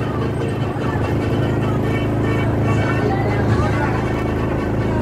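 A Honda XRM 125 motorcycle engine strains uphill on a rough ride toward Teresa, Rizal, giving a steady loud droning growl under continuous wind noise, with someone talking over it.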